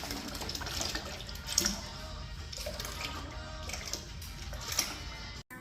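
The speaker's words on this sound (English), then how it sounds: "right now we're going to add chilled, purified water to just bring this up to about 5 gallons" Chilled purified water pours into a homebrew beer extract kit to bring it up to about five gallons, a steady, moderately loud rushing and splashing stream that runs throughout.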